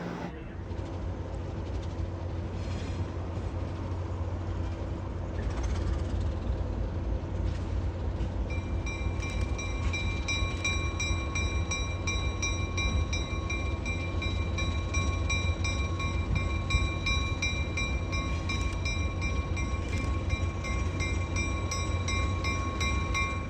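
Metro North P32 AC-DM locomotive number 222, a New York, New Haven and Hartford heritage unit, idles at a railroad museum with a steady loud diesel rumble and a constant high whine for the whole stretch, with no talking.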